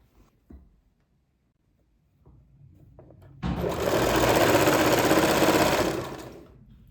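An electric sewing machine stitches fabric for a cord set, a steady loud whirring run of about two and a half seconds after a few quiet handling clicks and taps.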